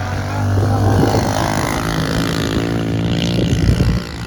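A two-stroke pit bike rips around a bermed corner on a sweeping, open track, its engine a loud, steady buzzing drone that holds its pitch for several seconds before easing off, close by, with no talking.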